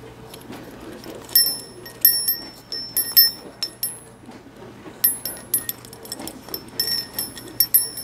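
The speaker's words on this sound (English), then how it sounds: "I want to put a bell on it underneath there. So I'm going to thread the bell through." A small metal bell tinkles in short, irregular jingles as it is threaded onto a handmade Yule craft, the bright clinks coming in bursts over quiet handling noise.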